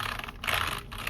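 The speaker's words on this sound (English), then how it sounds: "So I busted out the good old wireless keyboard" Fingers type on a wireless computer keyboard at a desk, a short burst of soft, quick key clicks heard close up over faint background noise.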